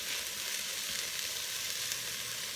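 Onions sizzle steadily in a Ninja Foodi pot, a continuous close frying hiss with no speech over it.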